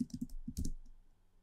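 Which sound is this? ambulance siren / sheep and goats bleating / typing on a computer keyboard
typing on a computer keyboard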